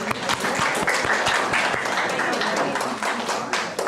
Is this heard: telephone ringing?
no